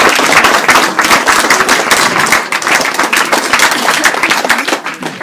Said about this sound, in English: We'll give him a big round of applause.